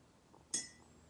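A single bright clink of a spoon against a cup while honey is stirred into matcha tea, one sharp metallic-glass tap with a short ringing tail, close and otherwise quiet.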